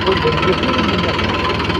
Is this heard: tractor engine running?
yes